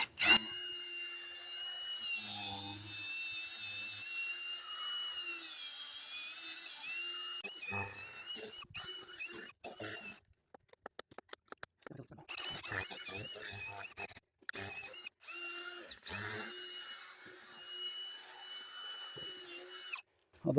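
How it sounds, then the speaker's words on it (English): A power drill on its lowest setting churns mortar mix for a concrete countertop mold, a whining motor hum that runs steadily and then breaks into short stop-start bursts before resuming, fairly quiet and without talk. "Got our drill on the lowest setting."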